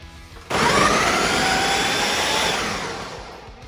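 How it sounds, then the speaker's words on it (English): A food processor roars into action shredding cheese for homemade mac and cheese, a loud sustained motor whir starting abruptly and slowly easing off toward the end. "We have a food processor,"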